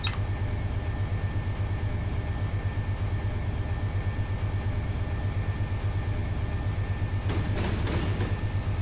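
Empty auto-rack freight train in the Run 8 Train Simulator game on the Fresno to Bakersfield route, a steady low diesel drone and rail rumble running throughout, with a brief brighter burst of noise near the end.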